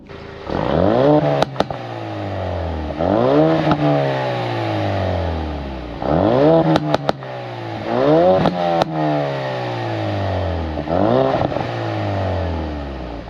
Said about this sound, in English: So the car's warm, so we're gonna give you a little bit of a rev